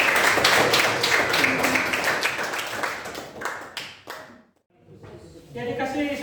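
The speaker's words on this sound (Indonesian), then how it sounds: "Kita beri aplaus untuk Sheila." A classroom audience applauds the student Sheila with brisk, dense clapping for about four seconds before it tapers off and stops. A voice speaks briefly afterward.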